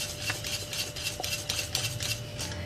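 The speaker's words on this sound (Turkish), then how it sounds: "Karıştırmaya devam ediyorum kaşarlar eriyene kadar." Béchamel sauce with melting kashar cheese stirred in a pot, a steady rhythm of quick metallic utensil scrapes and clinks against the pot over a low, constant kitchen hum.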